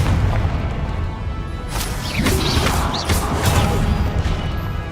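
Spell-cast explosions from the Confringo fire curse in the Hogwarts Legacy video game, a string of booming, crashing blasts over a dense, busy combat soundscape with no speech.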